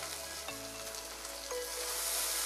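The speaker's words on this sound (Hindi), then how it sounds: "इसको भी अच्छी तरह से फ्राई कर लेंगे" Chopped tomato frying in an oily pan while cooking chicken biryani, giving a steady, close hiss and crackle with a couple of soft stirring knocks and no talking.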